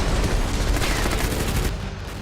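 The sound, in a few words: gunfire and explosions from Russian attack in Ukraine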